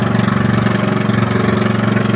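A fishing boat engine on Manila Bay chugs steadily at idle, a loud, even low throb with a rapid regular pulse and no voices.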